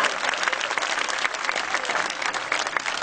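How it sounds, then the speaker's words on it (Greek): An audience applauds the young performers at a nursery school and kindergarten show. The clapping is full and continuous, a dense crowd sound with no break from start to finish. "Χειροκροτήστε τους πρωταγωνιστές μας, Άννα Τηγανάκη και Στέφανο Τρυπιά."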